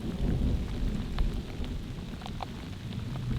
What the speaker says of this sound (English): It's frustrating with thunder and lightning when you're out and about though